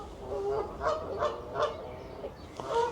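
Canada geese fighting outdoors let out a run of loud, regular honks, roughly one every second or so, close by and with no voices.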